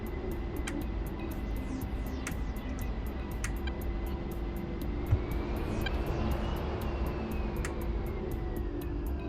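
A video-game airplane taxis on the ground, its engine giving a steady, close droning hum with a slowly rising whine and faint regular clicks, with no talk over it.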